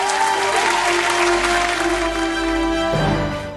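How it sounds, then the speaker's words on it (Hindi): Loud applause from a studio audience at a gospel singing competition show, steady dense clapping over a sustained musical tone, fading slightly at the end. "जोरदार तालियां हो जाए।"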